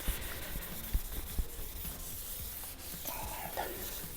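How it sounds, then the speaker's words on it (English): Wet sanding by hand on freshly resprayed car paint, a soft continuous rubbing hiss with a few light knocks early on, quiet and close with no talk. "sanding the"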